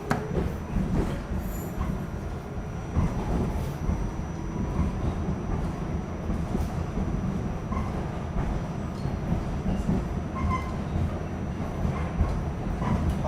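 A New York subway train idles in a station, its steady low mechanical rumble and hum filling the space at a constant level, with a faint high whine running over it.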